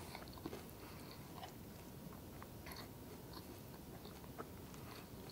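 Lucky Charms and Frosted Flakes cereal is chewed close up, with quiet, repeated crunching and munching bites continuing steadily throughout.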